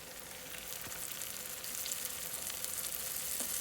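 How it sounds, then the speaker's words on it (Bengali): Homemade chicken nuggets fry in oil with a steady, close hiss of sizzling that swells slightly partway through, with a few faint pops and no voices. "এখন আমি এগুলোকে ফ্রাই করব,"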